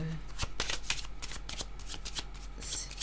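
A deck of cards is shuffled close up, with rapid riffling flutters and repeated snapping card slaps in an irregular rhythm, and a voice speaks over it.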